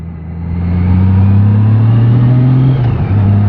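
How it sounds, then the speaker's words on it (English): A car engine labours in first gear while climbing a steep hill road with hairpin bends. It holds a steady, loud drone that rises slightly in pitch. There is no talk. "And going the other way, climbing through this, I have to use first gear."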